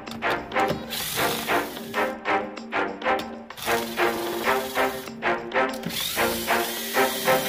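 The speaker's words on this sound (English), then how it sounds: "we just got to drill the bolt holes and get it in there" A power drill whines in a run of short, rhythmic bursts, each rising and falling as it bores bolt holes during an NV4500 transmission swap, close and loud.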